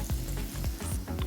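Cumin seeds and mustard seeds frying in hot oil while cooking cauliflower rice, a steady close sizzle broken by a few soft stirring scrapes through the short stretch, with no talking.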